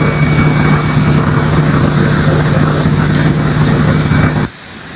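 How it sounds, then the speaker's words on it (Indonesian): Steady, loud propeller aircraft drone passing overhead, a continuous broadband roar with a low engine hum that holds for several seconds, then drops off abruptly near the end. "Kayak ada suara pesawat, ya kan ya."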